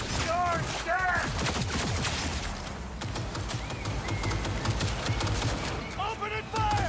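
Automatic gunfire bursts in Cyberpunk 2077 crackle through a busy combat soundscape, with short rapid volleys layered over game effects while voices shout in the background.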